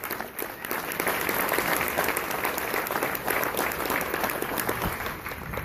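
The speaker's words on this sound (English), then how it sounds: "I'd love to give them a quick round of applause for the help that they've given to us in this process." Audience applause at a healthcare presentation, a steady wash of many hands clapping at even loudness for several seconds without speech.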